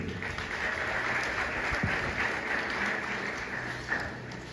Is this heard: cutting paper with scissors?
no